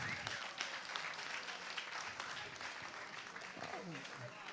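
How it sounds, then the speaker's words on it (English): Dense crowd applause at a Crohn's & Colitis Foundation Arizona Chapter Night of Champions gala, steady and fairly loud throughout, with voices mixed into the clapping. "give them a big round of applause right now"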